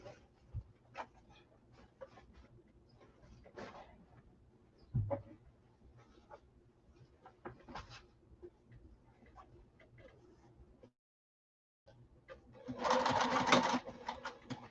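Sewing machine stitching a slouch bag, running in short bursts with pauses, building to a louder sustained run near the end, with faint handling noises between stitches.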